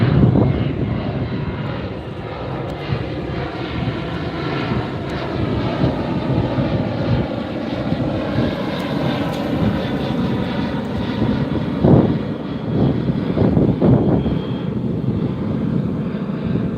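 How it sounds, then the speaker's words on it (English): A noisy jet airliner passes over the beach near LAX, a steady broad roar holding throughout with gusty wind buffeting the microphone and a few brief knocks near the end. "I got a noisier flight here."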